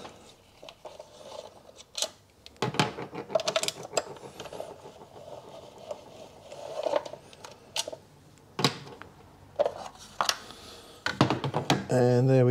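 A ratchet or wrench clicks in quick bursts while 8mm bolts come out of the plastic top engine cover on a 2016 Hyundai i20 1.2 petrol, with short metallic ticks and pauses, close up.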